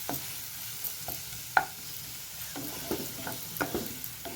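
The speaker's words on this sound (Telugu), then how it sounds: "ఇలా అల్లం వెల్లుల్లి పేస్ట్ వేసిన తర్వాత కాస్త కలుపుకోవాలి." Ginger garlic paste is stirred into frying ivy gourd in a pan, a soft steady sizzle broken by scattered scraping and tapping clicks of the spoon, close and quiet with no talking.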